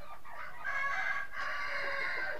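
Several chickens in a small backyard flock, some recently sick, give continuous clucking and crowing-like calls at moderate distance, layered over steady background noise without talk.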